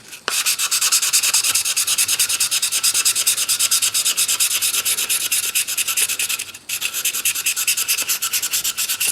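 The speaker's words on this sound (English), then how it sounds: "And we'll take a little piece of 400 grit and some WD-40. And we'll just clean the rust off of that." A rusty 1950s Record No. 4 hand plane scrubbed with 400-grit sandpaper and WD-40 gives a steady, fast back-and-forth rubbing rasp. The strokes run close and continuous, with one brief pause near the end.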